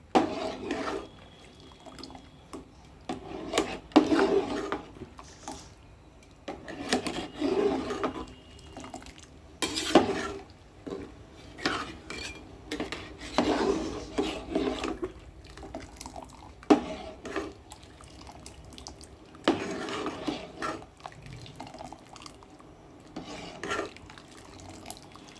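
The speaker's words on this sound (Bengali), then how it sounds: "চিনি, পেকটিন, জল, আমের রস সব মিশিয়ে আমি সমানে নাড়তে থাকবো।" Mango jam made with sugar, pectin and water is stirred in a pan, with repeated wet scraping and sloshing strokes at an irregular pace, close by and with no talk.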